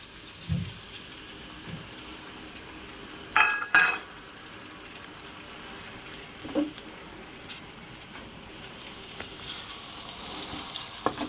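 Paneer curry gravy frying in a pan with a soft, steady sizzle, broken by a few brief scrapes and knocks of a spoon stirring it.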